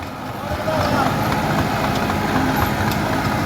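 An ATS 290 tractor pulling a rotavator in third gear through a field, its engine giving a steady, loud, close drone that holds even throughout.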